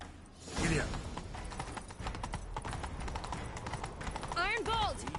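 Horse hooves clip-clop at a gallop in The Witcher 3, a steady rapid rhythm close by, with game voices and ambient noise layered over it and a brief whinny-like sweep near the end.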